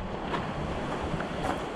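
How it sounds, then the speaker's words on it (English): A strong current rushes through a small waterfall at a swimming hole, a steady, broadband wash of water noise without pause, fairly faint and unbroken, with no voices. "I'm just chilling in the waterfall. Damn, it's actually a really strong current."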